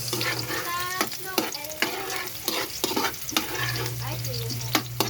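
Garlic and onion sautéing in oil in a pan, a steady close sizzle broken by repeated scraping stirs and clinks of a utensil, with no talking over it.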